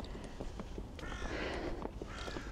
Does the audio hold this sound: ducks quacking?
no